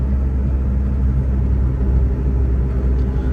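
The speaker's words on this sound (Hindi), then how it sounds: "अभी मैं बिल्कुल लो आरपीएम्स पे चला रहा हूँ" A Suzuki Alto VXR 660cc with an automatic conversion cruises at low rpm, its small engine giving a steady, continuous low rumble with road noise, close and even throughout with no talking.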